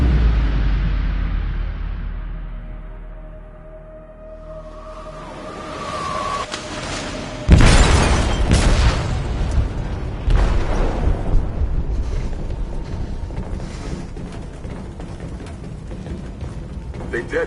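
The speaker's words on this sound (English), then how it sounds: "They detonated an explosive in the hold." An explosive detonates in a ship's hold in the game Detroit: Become Human: a deep, loud boom hits after a low rumble and rising mechanical tone, followed by a sustained roar and rumbling debris, with speech nearby.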